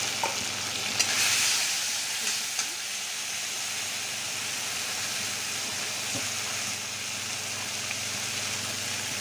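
Spices and cumin powder sizzle steadily in a hot pan for a potato-onion fish curry, a continuous close frying hiss with faint stirring scrapes and no talk.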